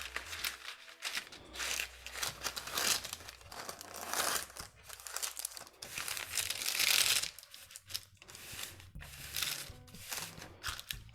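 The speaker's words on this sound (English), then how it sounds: "A sheet of parchment paper." A sheet of parchment paper crinkles and rustles on a baking sheet as pretzel bites are prepped, with bursts of crisp crackling, steady and close throughout.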